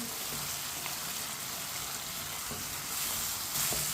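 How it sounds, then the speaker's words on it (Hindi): Tomatoes cook with potato and okra in a pan, a steady bright sizzle of frying heard up close, with a few faint clicks and scrapes of a spoon stirring now and then. "टमाटर को भी 3 मिनट के लिए पका लेंगे"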